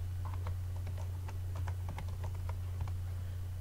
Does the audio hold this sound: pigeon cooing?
no